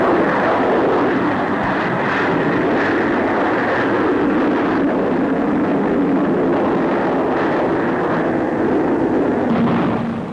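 A de Havilland 110 twin-engined fighter jet in flight at the Farnborough air show, a continuous broad roaring engine wash holding steady and fairly loud throughout, with no talk.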